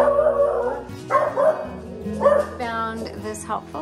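A dog barks and yips several times in quick bursts, close by, mixed with a person speaking.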